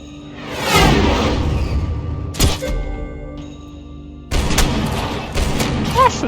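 Slow-motion bullet-time gunfire in Max Payne 3, a drawn-out whooshing shot followed by sharp stretched gun blasts and a later burst of firing, loud and close.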